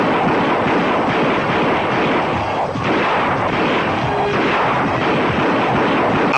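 Gunfire in a Pakistani movie scene where a hero and two thugs shoot at each other face to face: a dense, continuous roar of rapid shots and blasts, loud and steady throughout, with no talking.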